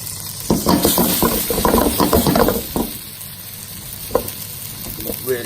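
A thick tuna steak frying in oil over a low flame, Chinese style: steady crackling sizzle throughout, with a few scraping, clicking touches from a utensil in the pan.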